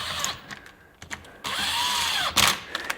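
A power tool briefly runs a bolt into a cylinder head during a teardown on a Bennche utility vehicle, giving a short whirring burst with a rising and falling pitch amid clicks and handling noises.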